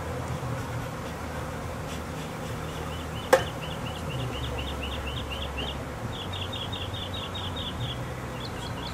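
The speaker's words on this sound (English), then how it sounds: "Yeah, it's a good bit of bees." A swarm of honey bees on a crape myrtle buzzes in a steady, low hum throughout, with higher chirping sounds repeating over the top and a single sharp click near the middle.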